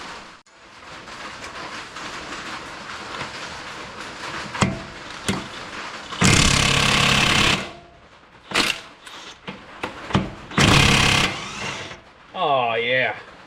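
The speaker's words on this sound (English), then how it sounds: "hit it with my 1/2 inch electric impact and see what" A 1/2 inch electric impact wrench hammers on a socket over a kingpin of a 1990 Ford F350 Dana 60 front axle, in two loud rattling bursts, the first longer, between quieter workshop clatter and handling noise.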